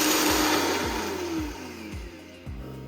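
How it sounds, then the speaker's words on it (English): A kitchen blender grinding dry oats into flour, a loud steady whirring motor with rhythmic low thumps as the oats churn, slowly easing in pitch and volume, heard close and alone. "First, we're going to add our oats to our blender, and then we're going to blend to make oat flour."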